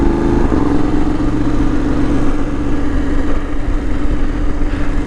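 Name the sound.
BMW F750 GS motorcycle exhaust and tyre roar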